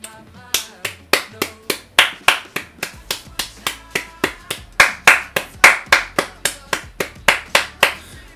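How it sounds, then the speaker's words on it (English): Rhythmic applause-like clapping from a player in the hockey video game NHL 20, about two dozen sharp claps at a steady pace, close and clear with no talk over it. "See, that's me clapping,"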